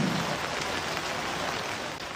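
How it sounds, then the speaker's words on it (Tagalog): Heavy typhoon rain in Ormoc, Leyte, driven by wind gusts, a constant close hiss of downpour on surfaces that holds steady throughout. "Ang malakas na ulan na sinabayan ng bugso ng hangin ang gumising sa ilang taga-Ormoc Leyte kanina."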